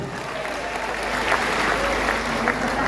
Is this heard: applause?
yes